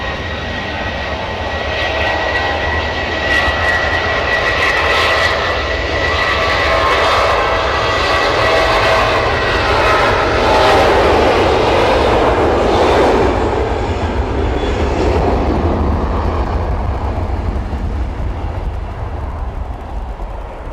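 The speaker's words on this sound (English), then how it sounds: "we've got a Jet2.com Neo coming out" A Jet2 Airbus A321neo jet airliner at Manchester Airport gives a loud, steady engine roar with whine and rumble. The sound stays sustained and close for about twenty seconds, swells slightly midway, and has no speech over it.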